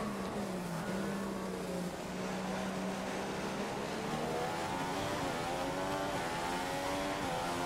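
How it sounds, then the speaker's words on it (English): Race car in the F1 2015 video game during the Chinese Grand Prix, a steady engine drone with rising and falling tones and a constant rough scraping over the track surface, loud and continuous with no talk. "You can hear the car scraping over the surface as we go along."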